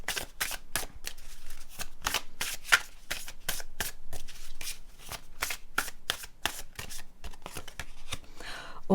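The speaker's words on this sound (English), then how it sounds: "I shuffle the cards after the readings. I shuffle the cards on camera." Tarot cards being shuffled by hand, rapid repeated riffling slaps in a quick irregular rhythm, close and clear throughout.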